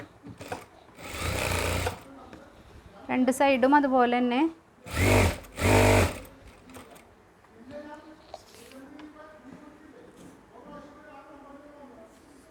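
A sewing machine stitches the side seam of a frock in two short whirring runs. Someone talks between and after the runs.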